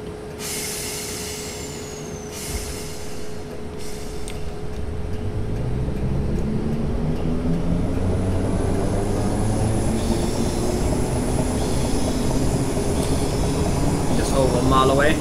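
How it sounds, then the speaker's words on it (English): Train pulling away from a station in the Train Simulator 2018 game on the East Croydon to Shepherd's Bush route, a steady tone and rising motor whine building gradually over a rumbling rail bed, with someone talking over it. "this train's ready to depart"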